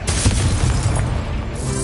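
The Incendio fire spell from Hogwarts Legacy bursts out as a loud, sustained fiery whoosh with a deep booming rumble, fading after about a second and a half.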